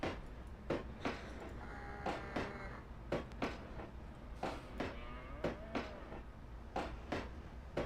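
A cow in the Trainz video game, set in the Appalachian coal fields, gives a faint drawn-out moo partway through, heard among the repeated rhythmic clanks and thumps of a moving train.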